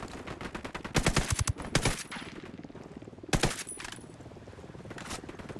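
Automatic gunfire in a Tom Clancy's Ghost Recon firefight, rapid bursts rattling off in clusters with short gaps between them, fairly close, and fainter shots keep going in the background.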